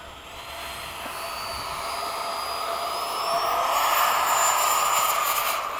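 An FMS-powered Freewing 90mm F-15 RC jet roars through the air with a rising electric ducted-fan whine that grows louder as it passes, sustained and fairly close.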